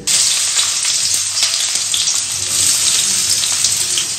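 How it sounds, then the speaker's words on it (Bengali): Onions frying in a pan in a home kitchen, a loud, steady close-up sizzle with a hissing, watery texture that holds evenly from start to finish. "পেঁয়াজ ভাজা হচ্ছে"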